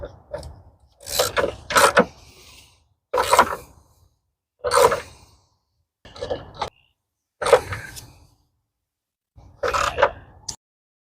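A wrench tightens the 13 mm battery tie-down on a 2007 Saturn Vue, in bursts of close ratcheting clicks and metal scrapes separated by short quiet gaps.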